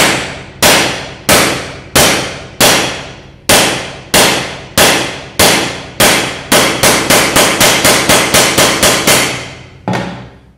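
A hammer strikes a metal part of a PCP air rifle, sharp loud clanging blows at a steady pace that speed into a quicker run of hits before a final strike.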